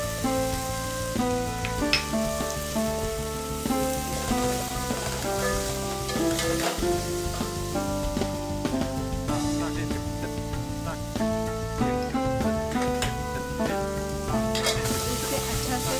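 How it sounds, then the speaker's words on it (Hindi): Spiced ingredients with turmeric, black pepper and salt sizzle and crackle as they are sautéed in a pan for a Baghdadi Jewish dish, a continuous fry with stirring under background music. "इसे अच्छा से सौते करना है।"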